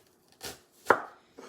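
Knife cuts through onion on a board, slicing it thin for BBQ cheddar pork burgers: three separate crisp chops spaced about half a second apart, close and fairly quiet, with no talking.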